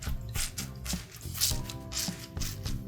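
Wet hair scrunched with water in the hands, making soft, squelchy squishes in a loose rhythm of a few repeated squeezes, close and fairly quiet, with a faint voice in the background.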